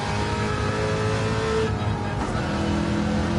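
A car engine in Gran Turismo 7 revs loud and steady through a sustained drive, its pitch climbing and dipping with gear changes, continuous throughout with no talk over it.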